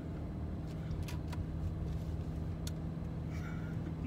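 A Scion car with a manual transmission drives in circles doing donuts, its engine a steady low drone heard from inside the cabin with a few faint clicks and squeaks, with no talk.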